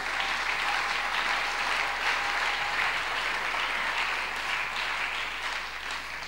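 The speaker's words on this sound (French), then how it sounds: "Acclamons pour la parole de Dieu." A church congregation at a French and Lingala sermon breaks into sustained, dense applause that fills the room evenly from start to finish, with no voices rising above it.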